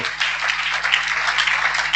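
A congregation at a spiritual-combat church service applauds loudly, a dense, steady wash of many hands clapping that holds evenly from start to finish, with no voice standing out above it.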